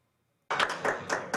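Assembly members in Ecuador's legislature applaud after a session vote, silence giving way abruptly to a burst of clapping in uneven waves, moderately loud and close.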